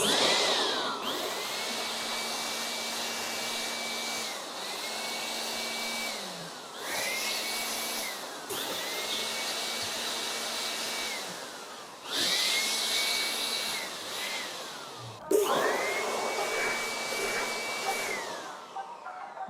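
A desktop PC is blasted clean of dust with air in a series of about six long, loud, close hissing bursts separated by short pauses. No one speaks.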